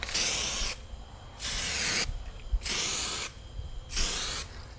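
A spray can applies Superwrap sprayable vinyl to a car wheel in four loud, close hissing bursts, each about a second long, with short pauses between them.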